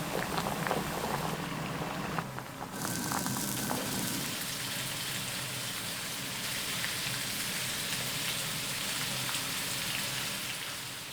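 Pork belly for crispy roast pork (wok siu) deep-frying in oil that started cold, giving a steady, dense crackling sizzle, slightly louder at first, then settling into an even bubbling hiss.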